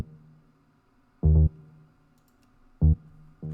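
Synth bass treated with a lively snare-style plate reverb, two short thumping notes with a soft tail ringing between them, close and moderately loud.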